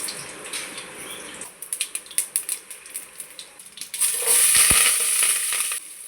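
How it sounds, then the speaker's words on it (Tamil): Cumin, fennel and mustard seeds hit two spoons of hot oil in a pan, giving a run of sharp crackling pops that swell into a loud, dense sizzle before easing off. "இப்போ ஜீரகம், சோம்பு, கடுகு 1/4 டீஸ்பூன் சேர்த்துக்கலாம்"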